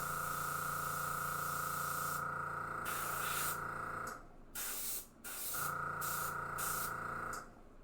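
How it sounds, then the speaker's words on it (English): An air compressor runs loudly with a steady, continuous hiss and hum, cutting out briefly twice before resuming near and constant. "So the compressor is actually pretty loud for the most part."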